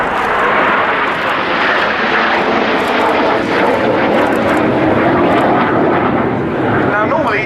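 Red Arrows RAF jets fly in formation at an air show, filling the scene with a loud, continuous roaring rush of engine noise, while a voice talks beneath it.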